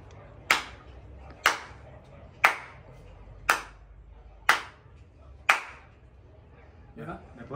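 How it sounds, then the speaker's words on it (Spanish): Hand claps, six sharp single strikes spaced about a second apart, close and loud over a quiet room murmur, followed by faint rustling. "Ok, the clap."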